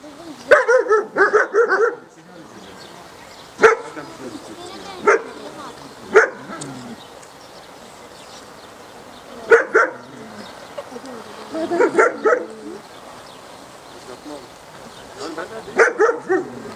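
A dog barks in short bursts, some quick runs and some single barks, with gaps between them during a social test for dogs, one dog behaving toward another. Voices of people talking are heard between the barks.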